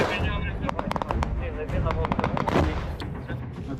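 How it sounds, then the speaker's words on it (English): Combat near Avdiivka, with RPG fire and explosions aimed at a Bradley armored vehicle. Dense, continuous sharp cracks and booming blasts layer over rumbling background noise, loud and chaotic throughout. "The enemy attacks the Bradley with an RPG, but to no avail"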